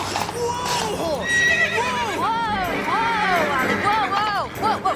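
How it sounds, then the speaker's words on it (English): A horse whinnies and neighs repeatedly during a frantic rescue from a sticky trap, its loud, rising-and-falling cries close by, with hooves clattering and people shouting over it. "Whoa! Horse!"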